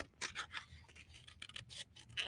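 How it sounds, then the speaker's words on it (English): Scissors are picked up and handled during paper napkin crafting, giving a run of close, quiet snips, scrapes and rustles in irregular bursts. "Whoops, I grabbed the wrong scissors."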